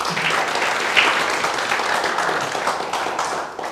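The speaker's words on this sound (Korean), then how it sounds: "여러분 박수 한번 주세요." An audience in a lecture hall applauds steadily for a few seconds. The clapping is a dense, even wash with no voices over it.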